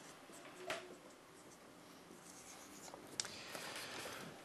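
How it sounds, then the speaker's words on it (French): Chalk or pen writing out a math lesson on permutations in probability, soft scratchy strokes with a couple of sharper taps, faint and close in a quiet room. "là, je vais tout vous écrire"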